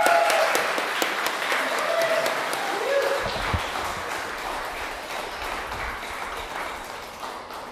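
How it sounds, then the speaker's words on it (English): Gallery visitors at an exhibition launch for the Yarra Sculpture Gallery summer residency applaud the artists, a sustained wash of clapping that gradually thins and fades, with some voices murmuring underneath. "So a hand of applause to the artists."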